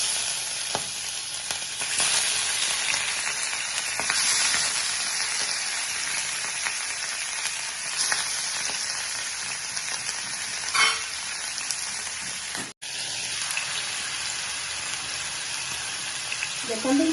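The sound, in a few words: fish frying in hot oil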